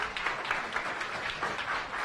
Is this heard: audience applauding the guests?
yes